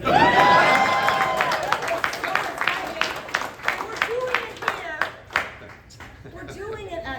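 A crowd claps at an outdoor press conference at a Bay Area Rapid Transit stop. Applause and cheering swell loud at first, then thin into scattered claps that fade as the crowd quiets.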